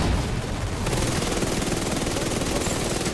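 Sustained automatic gunfire in The Division 2, a dense, rattling barrage of overlapping shots and thuds that runs loud and unbroken for a few seconds without talk.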